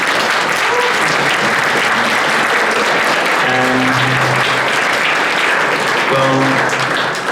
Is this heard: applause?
yes